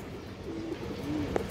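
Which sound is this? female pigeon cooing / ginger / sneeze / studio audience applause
female pigeon cooing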